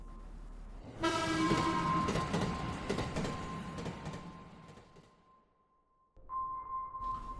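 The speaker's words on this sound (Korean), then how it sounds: "그리고 나서 쌩 하고 그 순간 기차가 지나가는 거야," A train rushes past with a loud, broad roar and a steady horn-like tone for several seconds, fading away before a second tonal blast cuts back in near the end; no one speaks.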